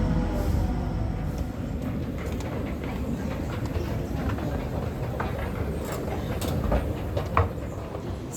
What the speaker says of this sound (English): we're gonna take the train from track 2